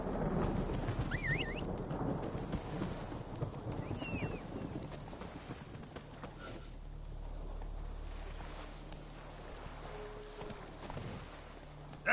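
Horse hooves clip-clopping at a steady walking rhythm in The Witcher 3, Roach's footfalls fairly close and even, with a brief whinny-like call and ambient game sounds around them.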